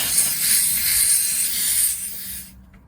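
Air hisses steadily and close by for about two and a half seconds while a portable EAFC tire inflator's hose is screwed onto a tire valve, then cuts off abruptly to near silence.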